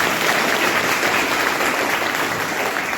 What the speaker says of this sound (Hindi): आप इस पर ताली मारें।